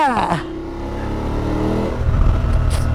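A BMW F850GSA motorcycle accelerates on an Odisha road, its engine note rising in pitch under wind rush and loud close rumble, with a rider's voice heard briefly at the start.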